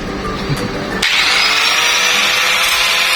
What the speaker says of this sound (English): My dad is using a grinding machine right here.